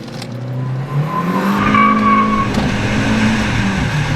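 A 235 bhp Mk2 VW Jetta 1.8 turbo with a custom exhaust accelerates, its engine note rising steadily under load, loud and close.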